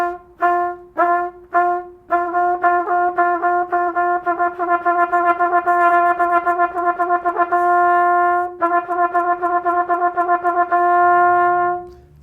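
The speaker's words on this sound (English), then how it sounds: "So to demonstrate the tu, ku on the trumpet, it should sound like this." A trumpet demonstrates double tonguing: a few separate tongued notes, then a fast, steady stream of rapidly articulated repeated notes on one pitch, loud and close, with no voice over it.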